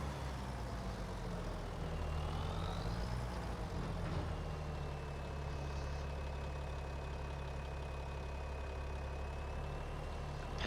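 A tractor drives in a farming video game with a steady low engine drone and a faint whine rising and falling above it, continuous throughout with no talking.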